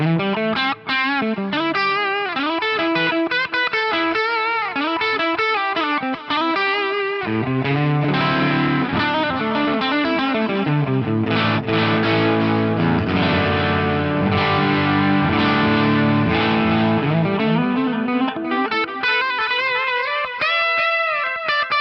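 Electric guitar played through a VP4 delay and reverb pedal with an expression pedal swept from heel down, sustained distorted chords and notes washing into swelling echoes and reverb that thicken midway, loud and continuous without talk.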